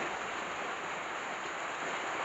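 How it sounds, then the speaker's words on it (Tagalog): Rain falling in a steady, soft hiss, faint and even across the short stretch with no other sounds or voices. "At umulan pa nga. Ayan, umulan pa."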